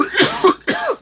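A person with a cold coughs twice up close, two short harsh bursts separated by a brief gap, loud and alone.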